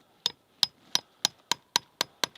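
A spile is tapped into a maple tree, eight sharp, evenly spaced hammer taps ringing out close and clear in a steady rhythm with no talk.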